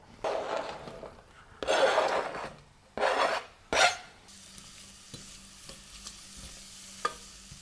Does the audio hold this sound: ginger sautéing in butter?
yes